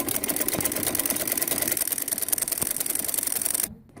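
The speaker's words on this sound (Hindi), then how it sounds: "अब मैं इसके ऊपर यहाँ डबल सिलाई लगा रही हूँ।" A sewing machine runs a double line of stitches on fabric for a decorative trouser-bottom hem. The motor whirs fast and continuously up close, then stops abruptly near the end.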